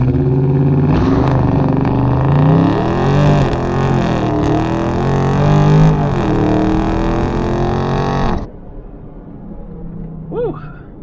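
A Dodge Scat Pack holds at about 2300 RPM on launch control, then roars through a loud full-throttle launch, the engine note climbing and shifting for around eight seconds before dropping to a quieter hum.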